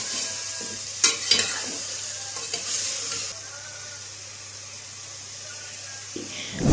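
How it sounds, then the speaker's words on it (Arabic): Meat sautés in a pot with celery and carrot for an Egyptian fatteh with meat, giving a close, hissing sizzle broken by a few sharp clatters of stirring early on before it settles into a softer, steady fry. "عودين كرفس، وهنحط جزرايه صغيره برضو ونقطعهم ونقعد نشوح فيهم كده شويه حلوين"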